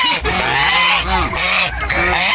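A goose honks close by in a quick series of loud, nasal calls, about seven in a row with short gaps between them.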